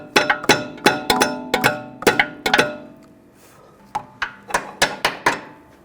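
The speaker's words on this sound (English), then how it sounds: "You just use a small hammer and tap it in place." Sharp small-hammer taps seating a rear brake hose clip on a 2009-2017 Volkswagen Tiguan, in quick bursts, two clusters of several strikes separated by a short pause, close and distinct.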